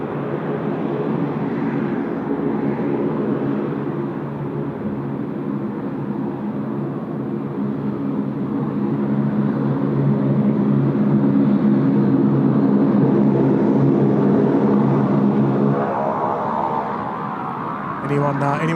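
A United airliner rolls for takeoff from runway 16 right at Sydney Airport, bound for Houston, its steady, loud jet roar swelling gradually and holding as it accelerates.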